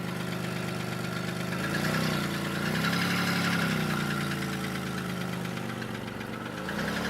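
A 2002 Chevy Malibu engine runs steadily at idle, with a rough, slightly knocking mid-range drone that holds loud and close, without pause or voices.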